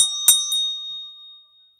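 A bell gives a single bright ding that rings on briefly and fades out, with a second faint strike following just after, alone and close.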